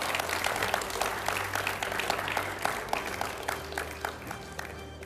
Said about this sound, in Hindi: मैं जोरदार तालियों के साथ स्वागत करता हूं सुप्रिया श्रीनेत का